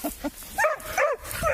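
A dog gives a quick series of barks and whining yelps outdoors in the wild, several short close calls in under two seconds.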